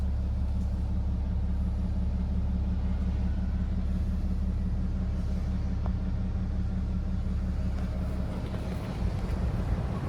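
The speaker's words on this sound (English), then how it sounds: "Big 3 litre straight 6 diesel, single turbo" A BMW 530d M Sport's single-turbo 3-litre straight-six diesel idles steadily with a deep, even low rumble and light wind noise, no revving and no talk.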